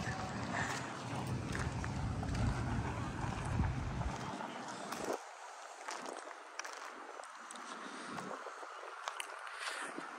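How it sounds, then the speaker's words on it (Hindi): Strong outdoor wind rushes and buffets the microphone, loud and rumbling at first and then thinning into gustier, breathier bursts after a few seconds, with animals standing nearby in the scene. "अभी शानदार हवा चल रही है"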